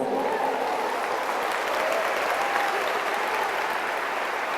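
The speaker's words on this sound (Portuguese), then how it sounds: "Pode aplaudir." A congregation at a Christian lecture claps steadily and densely throughout, a continuous wash of applause with no speech over it.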